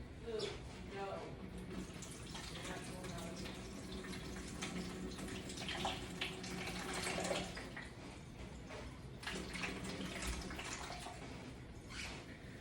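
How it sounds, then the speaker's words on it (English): Soaked cashews being drained, water running and splashing steadily for several seconds in a kitchen, with brief clattering touches and some background speech-like noise mixed in. "I'm going to drain the cashews and I'm going to dump them in here."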